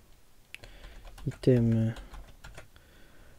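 A computer keyboard is typed on during a Unity3D game programming session. Scattered clicks and a few quick keystrokes sit under someone speaking French near the microphone.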